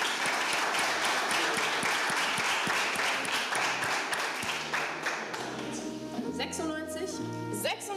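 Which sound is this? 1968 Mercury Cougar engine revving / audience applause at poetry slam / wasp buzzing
audience applause at poetry slam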